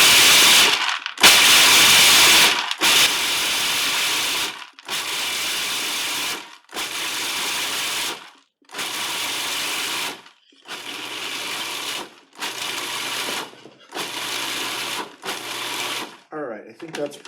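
A food processor grinds pistachios for a dessert in a kitchen. It runs in a series of loud whirring pulses, each a second or two long, separated by brief pauses. A voice talks nearby.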